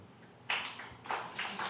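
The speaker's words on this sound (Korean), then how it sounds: "옆에 사람에게 한번 박수 쳐줘도" An audience at a lecture bursts into clapping after a brief quiet, with two loud waves of hand claps in quick succession, close and fairly bright, with no talking.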